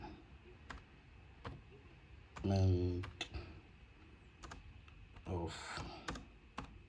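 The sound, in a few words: typing on a desktop computer keyboard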